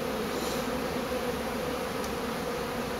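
A swarm of honeybees clustered on a treasure chest buzzes in a steady, dense drone, close and unbroken, with no voices.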